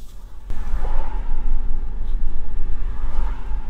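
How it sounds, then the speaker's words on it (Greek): Road traffic outside passes by, a continuous low rumble and whoosh of vehicles heard through the open windows of a Volkswagen ID.3, steady and fairly loud. "ακούστε λίγο τους ήχους που παίρνουμε απ' έξω, με παράθυρα ανοιχτά"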